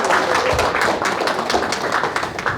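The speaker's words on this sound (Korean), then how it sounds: "자신을 위해서 박수 한번 치세요" An audience at a lecture hall applauding themselves, dense clapping from many hands filling the room steadily, loud and close with no talk over it.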